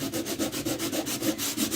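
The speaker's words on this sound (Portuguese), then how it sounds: "Com uma lixa grossa pra gente comer as marquinhas." Coarse sandpaper works over a geometric concrete vase in fast, even back-and-forth strokes, each stroke a close, gritty rasp in a steady rhythm with no voices.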